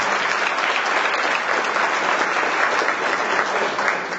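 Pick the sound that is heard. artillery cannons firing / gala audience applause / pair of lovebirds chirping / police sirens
gala audience applause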